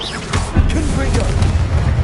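A Confringo explosive spell going off in Hogwarts Legacy, a loud booming burst with rolling low rumble and crackle, and a voice talking over it.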